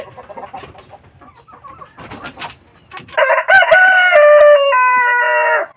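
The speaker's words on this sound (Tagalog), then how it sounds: "Away-away itong mga manok sa labas." Free-range heritage chickens squabbling outdoors on a Filipino farm, scattered clucks and squawks building to a loud, close rooster crow that holds for a couple of seconds.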